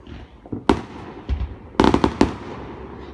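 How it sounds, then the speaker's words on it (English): Fireworks bursting on the 4th of July: a series of sharp, loud booms and crackles, some single and some in quick clusters, over a low background rumble. "do you know Angelique is scared of fireworks"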